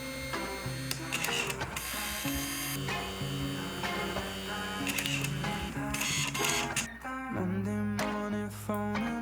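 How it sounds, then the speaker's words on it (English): A home photo printer runs through a print job: steady mechanical whirring and stepped feed-motor tones with clicks and shifts in pitch, close and alone for about nine seconds. "I do have a photo printer, so I'm gonna print a photo of him"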